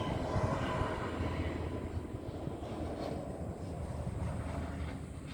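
A strong, warm wind blows outdoors around someone working on a Peugeot XD2 diesel cylinder head, a steady, fairly faint broadband rush with low rumble and no speech.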